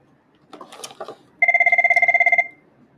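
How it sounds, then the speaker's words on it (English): A telephone rings with a rapid trilling bell burst lasting about a second, loud and close, preceded by brief indistinct sounds in an indoor workspace. "Sorry for the phone call."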